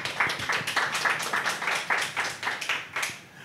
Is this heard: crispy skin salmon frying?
no